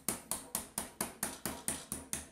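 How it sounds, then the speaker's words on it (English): Hammering metal to bend it for a multifuel stove burner: ten evenly spaced, sharp ringing blows in a steady rhythm, close and fairly loud, each with a brief decaying ring. "you can just hammer it and it will bend some more"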